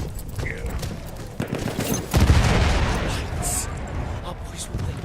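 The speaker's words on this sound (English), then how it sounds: "MGs are trained." Machine gun fire in the Battlefield 1 video game: dense, sustained rattling volleys with a heavier burst around the middle, mixed with battle noise and faint voices.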